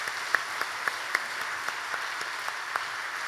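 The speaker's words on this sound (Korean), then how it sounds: "박수로 축하하겠습니다" Clapping from a church congregation welcoming newly appointed shepherds at a Sunday service, heard as a steady, even stream of claps with a few sharper individual claps standing out.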